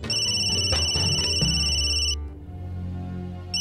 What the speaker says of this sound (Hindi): अभी कौन फोन कर रहा है?